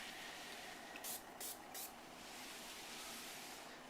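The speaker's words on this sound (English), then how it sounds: "all we're going to do is spritz it on" Granite sealer is spritzed onto a light stone countertop in three short, soft hissing bursts from a spray bottle, close by and spaced about half a second apart over a faint steady background hiss.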